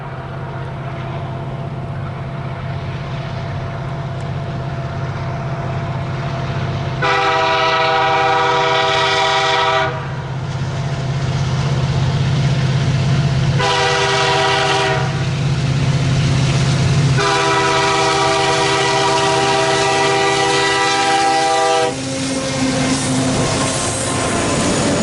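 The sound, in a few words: CN manifest freight train A442 at Bircham Crossing with horn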